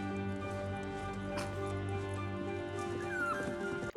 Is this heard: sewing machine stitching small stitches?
no